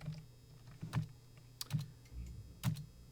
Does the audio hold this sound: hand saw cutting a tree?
no